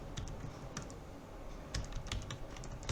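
Rapid keystrokes on a computer keyboard while filling in an online PAN card application, clicking in short irregular bursts at close range with no voices.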